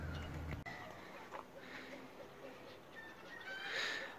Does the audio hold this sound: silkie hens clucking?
yes